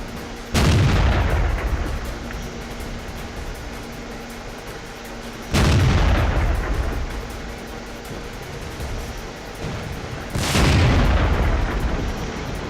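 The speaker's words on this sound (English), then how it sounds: "go ahead and fire a couple off" Three heavy tank cannon shots boom in World of Tanks, spaced about five seconds apart, each a loud close blast trailing into a lingering rumble, with no talk.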